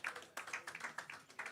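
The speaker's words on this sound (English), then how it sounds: "Keep the applause going, please." Applause at an economic outlook report launch, heard as a short run of fairly distinct, moderately paced claps at modest volume, without a full crowd roar.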